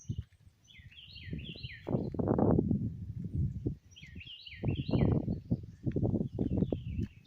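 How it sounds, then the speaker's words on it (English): Songbirds in Arkansas sing repeated short chirping, warbling phrases in two clear bursts, close and fairly loud, over a constant low rustling and thumping background. "listen to the birds"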